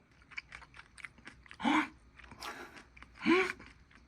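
Crunchy stir-fried anchovies with garlic being chewed close to the mic, with two loud crisp bites standing out among softer rhythmic chewing and mouth sounds.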